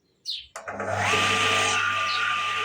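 A small amateur circular saw used for beehive woodwork starts up with a couple of clicks and bursts, then spins up to a loud, steady high whine close by.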